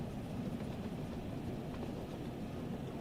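A Jubilee steam locomotive running in the Train Sim World 3 game, heard as a steady low rumble with faint rhythmic rail clatter, continuous and fairly quiet without voices.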